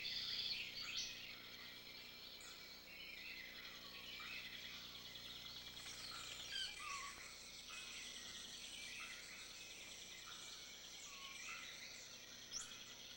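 Chorus of frogs calling in a warm, humid Trinidad rainforest, dense overlapping chirps and trills, some insect-like, running steadily throughout at moderate distance with no talk.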